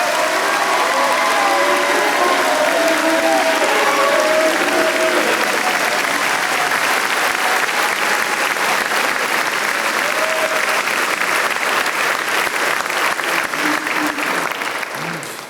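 Sustained applause from an audience at an academic awards convocation honoring Presidential Medal winners, a loud, dense wash of clapping lasting about fifteen seconds and tapering slightly at the end.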